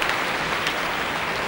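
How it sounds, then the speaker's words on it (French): Judges clap for gymnast Alice Capiatini after her beam routine at the 2000 Arthur Gander Memorial, a steady patter of applause that fills the moment evenly. "C'est étonnant de voir les juges applaudir."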